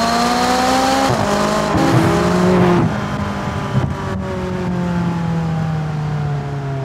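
A McLaren supercar engine revs hard and accelerates up close, its loud rising and falling tone sweeping through gear changes before it settles into a steady, fading drone.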